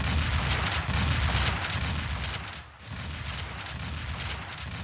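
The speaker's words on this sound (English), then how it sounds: "Nice shotgun." Shotgun blasts in the video game Doom, loud and close, fired repeatedly in a dense run of booming shots with a brief lull midway.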